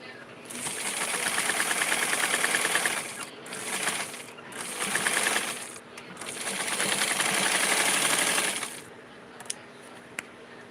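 Sewing machine stitching a Simplicity 4422 doll garment in several bursts of steady rapid whirring, pausing between runs, with a couple of sharp clicks near the end.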